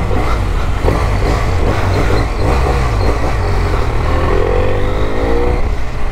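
BMW F800 motorcycle accelerating on a road, a loud continuous engine drone with rising revs, heard from on board over heavy wind rush.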